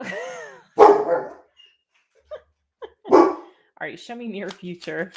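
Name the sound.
dog barking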